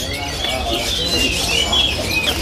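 Several caged birds chirp and trill in thin, repeated calls over a low background hum, fairly close and continuous.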